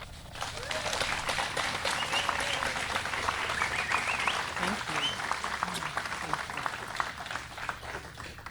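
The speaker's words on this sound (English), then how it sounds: "let's give a big round of applause to Sandy Lee." An outdoor crowd at a breast cancer charity motorcycle ride stop claps steadily for a speaker. The applause is moderately distant and runs throughout, with voices and general crowd noise mixed in.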